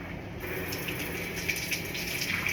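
Water runs steadily from a tap into a basin during a mock decontamination, a constant gushing rush with no voices.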